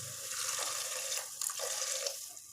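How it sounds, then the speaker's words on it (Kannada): Water pours steadily into a cooking pot of frying greens in a village kitchen, a close, continuous splashing stream with no talk. "ಸ್ವಲ್ಪ ನೀರು ಒಯ್ಯೋಣ"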